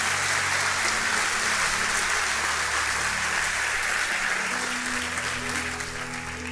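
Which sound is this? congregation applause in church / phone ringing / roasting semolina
congregation applause in church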